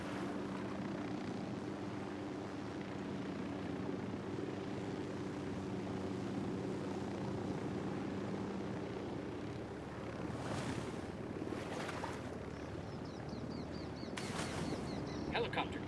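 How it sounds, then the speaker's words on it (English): A helicopter approaches in the video game Ghost Recon Wildlands, a steady low rotor drone that fades later as sharper bursts of game sounds cut in; a voice speaks intermittently. "Hit the dirt, helicopter."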